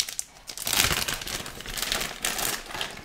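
Box of Jade keyboard switches handled up close, giving crinkly packaging rustles and small clicky rattles in irregular bursts, fairly quiet and with no voice.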